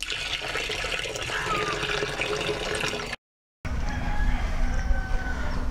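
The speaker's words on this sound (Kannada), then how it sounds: "ಮತ್ತೆ ನೀರನ್ನು ಕೂಡ ಇದರಲ್ಲಿ ನಾವು ಸೇರಿಸ್ತಾ ಬರೋಣ." Water pours into a panchagavya mixture of cow dung and ripe banana, a steady near splashing flow that breaks off briefly, then resumes with a slightly brighter trickle.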